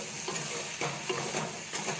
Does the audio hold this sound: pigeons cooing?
no